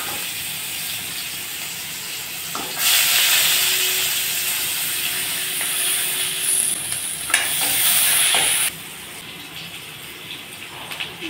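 Chopped onion and nigella seeds fry in a hot pan with a loud, steady sizzle that surges brighter midway as ingredients are stirred, with no talking.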